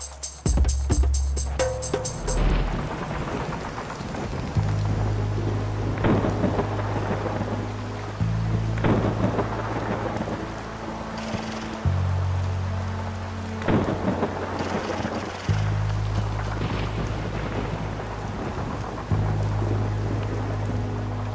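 Heavy night rain pours steadily while deep rolls of thunder rumble repeatedly, some close and booming, others more distant, with no voices heard.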